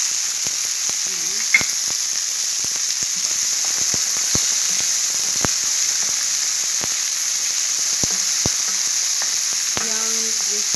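Mixed vegetables stir-frying in a pan for chicken fried rice, giving a steady close sizzle and hiss with scattered clicks of a spatula on the pan. No voices.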